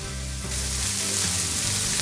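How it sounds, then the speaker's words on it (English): Kung pao shrimp sizzles loudly in a wok on high heat, a bright crackling hiss that swells as ingredients hit the pan, with a low hum beneath. "I've just got my wok on high and I'm just stir frying these ingredients"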